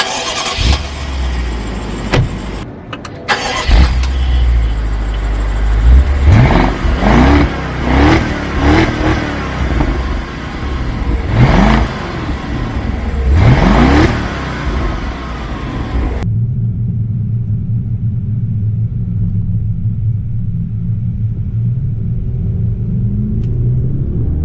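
A 2016 BMW Alpina B6 Gran Coupe with a hand-built twin-turbocharged 4.4-liter V8 starts and pulls away on the road, loud engine roar rising through several revving gear pulls, then settling into a low steady cabin rumble.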